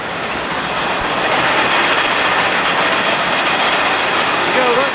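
A grain dryer runs with its auger turning and burner firing, making a loud, steady broadband roar that holds evenly and close throughout.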